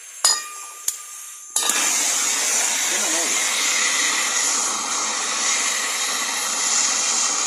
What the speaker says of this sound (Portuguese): Vou ligar o maçarico.